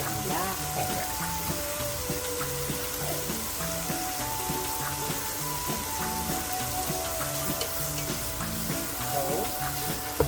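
Spinach with garlic sautéing in a pan, a steady soft sizzle and crackle running throughout at low level, with faint clinks and a repeating musical pattern underneath.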